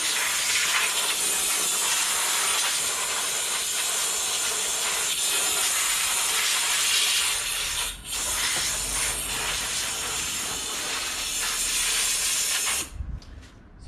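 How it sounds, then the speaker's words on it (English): Air is blown over an RC car from a distance during cleaning, a loud, steady compressed-air hiss that lasts about thirteen seconds with one brief dip, then cuts off abruptly at the end. "I'll just give it a quick little blow from a distance."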